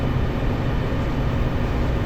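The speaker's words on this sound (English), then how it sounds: "And this is a commuter train." Commuter train from the Train Sim World 2020 simulator rolling along, a steady low rumble and drone with constant loudness and no pauses.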